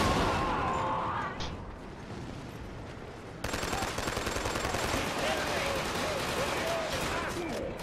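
Rapid bursts of gunfire crackle through a noisy Killzone 2 soundscape, growing denser and louder partway through, with scattered shots continuing to the end.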